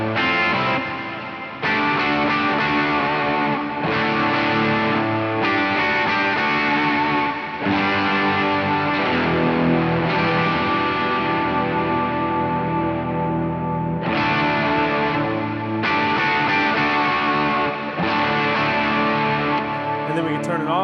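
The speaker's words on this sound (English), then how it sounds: "And then we're going to toggle over to our distortion in our front." Electric guitar played through the distortion effect of a Chaos Audio Stratus multi-effect pedal: sustained, heavily driven chords ring out in long phrases with brief breaks, loud and upfront with no talking.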